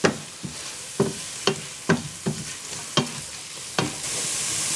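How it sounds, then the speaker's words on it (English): A spoon stirs carrots and other vegetables sizzling in a pot for a cream of cauliflower soup, with about eight distinct scraping knocks at a steady rhythm over a gentle fry. "We'll give that another quick stir to get that carrot all in there."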